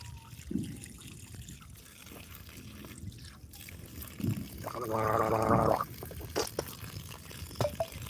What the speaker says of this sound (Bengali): এখান থেকে কিন্তু এই ভলুমটা অন করলেই কিন্তু আমাদের এই জল বেরোয়